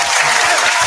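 Loud, close applause from a small podcast group around a table, dense clapping filling the whole moment with no words over it.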